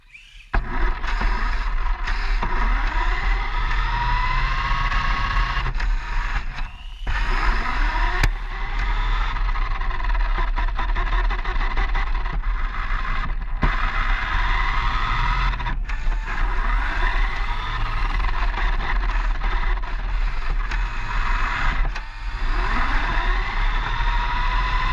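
A radio-controlled car drives around nonstop, its motor whine steady and close with brief scraping and revving changes, and no talking.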